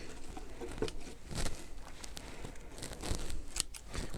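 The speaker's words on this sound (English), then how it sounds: "So now I'm going to cut away some of these loose bits" Scissors snipping loose bits of lining material around the inside of a wooden planter, a string of close, crisp cuts and crinkling rustles at an uneven rhythm, with no talking.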